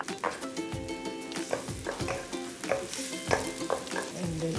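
Shallots fry in a little oil in a pan while making Pad Thai, a busy close sizzle broken by frequent scraping and clinking of a spatula stirring against the pan, with no talk.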